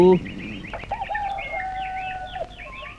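A rooster crows in a rural village at dawn, a long drawn-out call rising and holding, with other birds chirping around it and a faint voice at the start.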